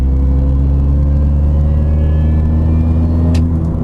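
Supercharged Mini accelerating hard in fifth gear from low revs, heard from inside as a loud, steady low engine drone with a rising whine and a brief sharp tick near the end.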